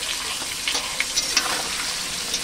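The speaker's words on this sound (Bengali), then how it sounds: "এবার ভালো করে একটু ভেজে নামিয়ে নেব।" Potatoes fry in hot oil with salt and turmeric, giving a steady, close sizzle with a few soft stirring clicks over the top and no talking.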